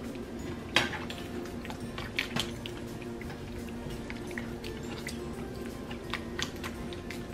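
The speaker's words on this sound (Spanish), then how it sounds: "Los vamos a machucar con el machucador." A hand masher works cooked ingredients in a pot for sopes de carne guisada, giving steady wet squishing with irregular sharp clinks of metal against the pot, close and busy throughout.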